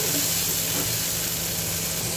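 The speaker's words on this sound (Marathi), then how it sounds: "कांदा व्यवस्थित आपण तेलामध्ये परतून घ्यायचा आहे" Onions sautéing in oil in a pan for chicken rassa, a steady, loud, even sizzle and hiss with no break and no voices.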